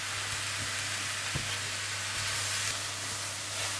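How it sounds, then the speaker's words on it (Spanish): Apples with lemon juice cook in a pan over medium heat, giving a steady soft sizzle and bubbling hiss with an occasional light clink of stirring, fairly quiet and with no voices. "Y ahora vamos a cocinar todo junto, mezclando de cuando en cuando, durante unos 7 a 10 minutos a una temperatura media."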